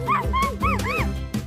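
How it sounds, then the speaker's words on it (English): Cartoon dog characters bark and yip excitedly in a quick series of bright, close, overlapping barks, several in a row over about a second and a half. "Everything from the girls barking excitedly as they walk into the chemist"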